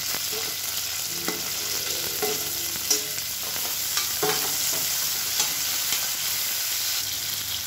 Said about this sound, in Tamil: இப்போ வெங்காயம் லேசாக வதங்கிட்டு இருக்கு.